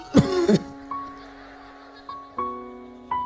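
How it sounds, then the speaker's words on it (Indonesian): A short burst of harsh coughing up front, then quiet broken by a few faint tonal pings. "Batuk tak kuat."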